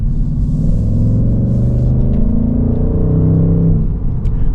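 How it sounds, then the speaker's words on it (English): A 2026 Ford Mustang GT convertible's V8 engine revs loud and close, a steady deep rumble swelling and holding for several seconds before easing off slightly near the end, with no voices. "It's just clean, smooth V8 sound and power."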